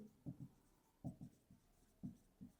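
Pen or pencil writing on paper while working through a school integers math exercise, six short scratchy strokes in three pairs, close and fairly quiet against a soft room hiss.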